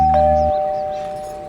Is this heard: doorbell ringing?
yes